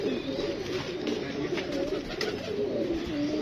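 A pigeon coos in repeated low, throaty rolling phrases, close and steady, with faint background voices.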